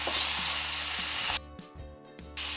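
Cauliflower and carrots sizzle loudly in a hot pan, then the frying hush drops out as the vegetables are stirred, with scraping clicks before the steady sizzle returns; no talk.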